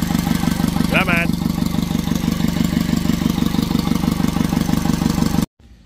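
An Isuzu Mini Elf 4HF1 diesel engine idles close by with a loud, steady, rhythmic clatter. A voice briefly speaks over it before the engine cuts out suddenly near the end.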